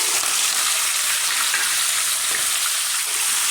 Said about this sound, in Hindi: इलायचियाँ और काली मिर्ची। इनको इसमें डाल के थोड़ा सा फ्राई करना है हमने।